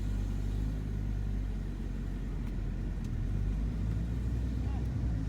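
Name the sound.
BMW E60 M5 engine starting and running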